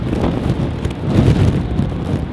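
Rain falling outdoors as a steady, close rushing hiss with a wind-like rumble, heard alone without talking.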